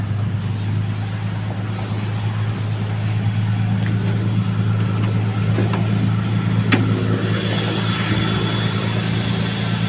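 A used car running only on petrol starts and settles into a smooth, steady idle, with an even low rumble and hum that stays close and constant throughout, and no talking.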